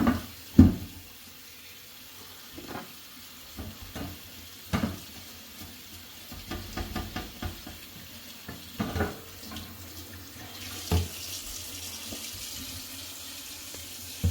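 Tap water runs over an aluminium pan as caustic soda and baked-on oil are rinsed off, giving a steady faint trickle broken by several louder splashes and clatters.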